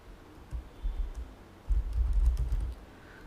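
Keys clatter on a computer keyboard as a name is typed while setting up a Windows 7 virtual machine in Oracle VirtualBox. Two close, soft bursts of keystrokes, a short one and then a longer run, with no talking.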